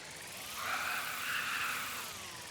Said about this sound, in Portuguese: Quer ver que eu vou quebrar o drone?